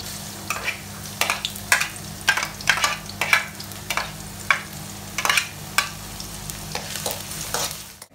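Garlic and onion fry in a pan, with a steady sizzle under repeated sharp scraping stirs. The sound is close and loud, and no one speaks.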